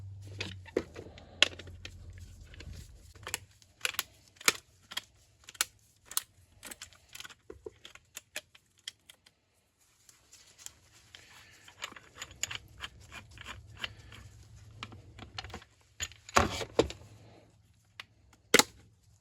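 A used Napa Gold 1394 oil filter being cut open: a long series of sharp, close metallic snips and clicks in irregular bursts, with a brief pause midway before the cutting resumes.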